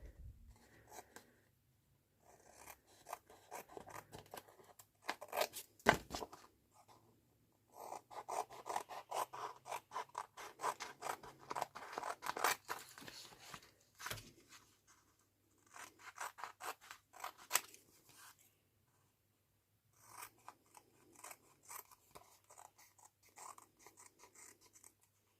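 Scissors trim the paper edges of a one-sheet multipocket folio, snipping and rasping in close, quiet bursts of rapid cuts separated by short pauses.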